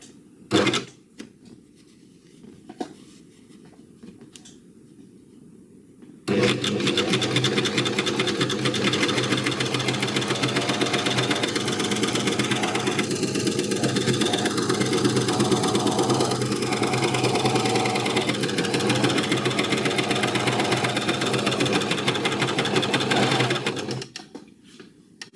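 A sewing machine with a binder attachment stitches on a wide needle setting. A few light clicks come first, then the motor runs in one long, steady, close whirring burst of rapid stitching before it stops.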